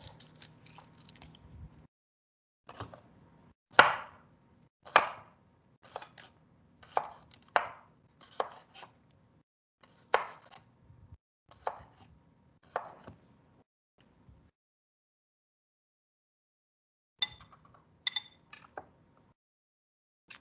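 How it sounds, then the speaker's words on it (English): Knife slicing garlic on a cutting board, a run of crisp, close, fairly loud chops in uneven bursts, then a pause before a few more cuts near the end. "Now this one I want a little bit more whole than the minced, so I'm just going to slice it up."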